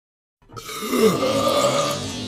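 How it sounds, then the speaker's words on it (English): A single belch from cattle, a long, low, drawn-out eructation that starts abruptly after silence and holds steady, close and loud. "When an animal belches methane"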